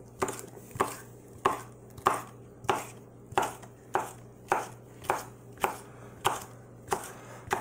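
A pocket knife chops peppers on a board in a steady series of about a dozen crisp, evenly spaced cuts, close and clear with no talking.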